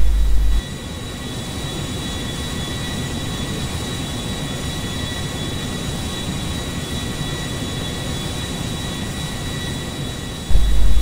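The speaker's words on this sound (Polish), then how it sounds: "Wieża kontrolna w Liberty City zezwoliła na taki start." Airliner engines roar steadily during takeoff in GTA V, a broad continuous rumble with a thin high whine running for about ten seconds, loud and unbroken, with no talk.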